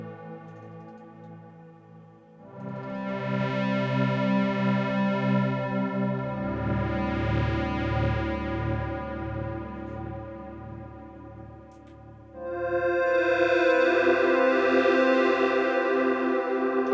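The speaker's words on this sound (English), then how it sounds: "Because I want you to hear that reverb a bit more." ZOIA and Microfreak synthesizer signal through lush reverb and chorus effects, sustained harmonic tones swelling and shifting across several seconds, with a brighter, louder passage near the end and no talking.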